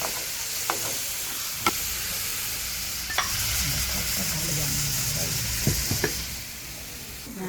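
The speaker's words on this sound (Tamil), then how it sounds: "நாங்கள் இப்போ இந்த உள்ளியை போட்டு ஒரு 5 நிமிஷமாக வதக்கி கொண்டு இருக்கிறோம்." Garlic cloves sautéing in hot oil for a Tamil-style garlic pickle, a steady close sizzle with occasional stirring clinks and scrapes, under intermittent talk.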